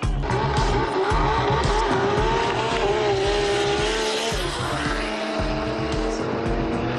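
A modified car drifts sideways at high speed, reaching around 250 in fourth gear, its engine roaring loudly and continuously beneath sustained, wavering tire squeal.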